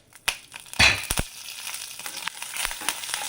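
Cut Guntur and Byadgi chillies dry-roasting in a single drop of oil in a pan, sharp crackles and pops at first, then a steady light sizzle with scattered snaps.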